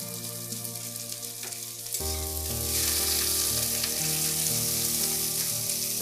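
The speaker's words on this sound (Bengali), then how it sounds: "একটু হাই হিটে এটাকে ফ্রাই করতে হবে" Cabbage and long beans stir-frying over high heat for veg chowmein, a loud close sizzle that jumps up sharply partway through and holds steady, with a musical hum underneath.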